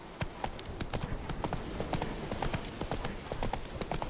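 Roach's hooves clip-clop at a steady trot in The Witcher 3, an even rhythm of close, clear hoofbeats over faint ambient game background.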